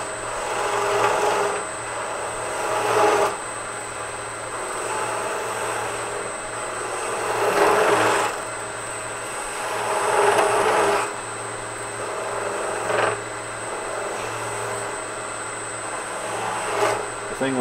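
A fluteless gouge cuts wood on a lathe, rising in repeated scraping swells over the motor's steady hum, close and moderately loud, with pauses between passes.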